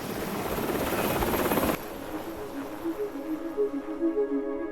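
A helicopter roars loudly for almost two seconds, then cuts to a quieter steady engine drone with pulsing rotor tones, no voices.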